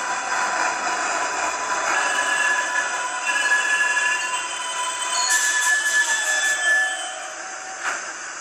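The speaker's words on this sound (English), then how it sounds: "This is a Manhattan-bound 6th Express train." A Manhattan-bound 6 Express subway train in the game Hmmsim 2 runs steadily with a high metallic hum and squealing wheels, a few brighter screeches near the end, no voices.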